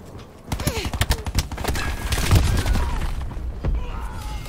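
Artillery strike explosions in a Call of Duty video game rumble as a dense run of booms and thuds, loud and close, with other game sounds layered over them.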